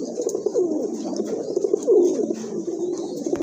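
A pair of good-quality pigeons of a rare colour coo near the microphone, with repeated soft, rolling coos that rise and fall in a steady rhythm with no voices.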